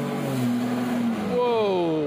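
A pickup truck's engine revs hard while towing a semi tractor trailer up a snowy hill in Georgia, the engine note climbing and rising in pitch with sustained effort, with voices talking over it.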